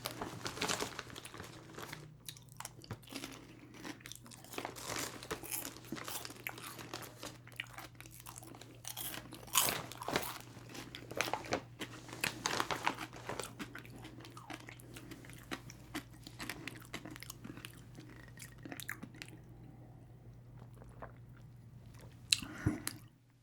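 Cracker Jack caramel popcorn being eaten close to the microphones in a quiet ASMR setting, with steady soft crunching, chewing and bag crinkling continuing for over twenty seconds with no talking.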